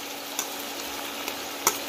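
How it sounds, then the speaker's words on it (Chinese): Chicken wings pan-frying in oil, browning on both sides: a steady close sizzle with a few sharp spatter pops standing out, no voices. "鸡翅煎至两面这种金黄色"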